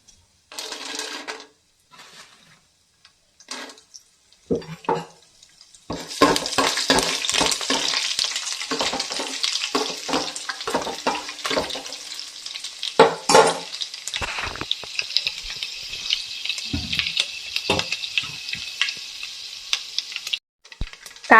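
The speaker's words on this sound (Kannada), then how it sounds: "ಜೋರು ಬೆಚ್ಚಾವಡು ನೆಕ್ ಒಂಜಿ ಚಮಚದಾತ್ ಸಾಸಿವೆ ಮತ್ತೆ ಕಡಲೆಬೇಳೆ" Mustard seeds and chana dal hit hot oil in a pan for a quick lemon rice, setting off a loud, close crackling sizzle with popping seeds and spoon scrapes after a few quieter clinks at the start.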